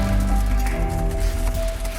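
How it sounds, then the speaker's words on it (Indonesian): Raindrops dripping and pattering steadily on a surface at night, a dense continuous patter with a low background rumble throughout, no talk. "tetesan air hujan itu masih terdengar"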